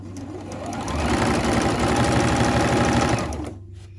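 Sewing machine stitching fabric for a hair scrunchie, a rapid even motor whir and needle chatter that ramps up, runs steadily at close range, then stops.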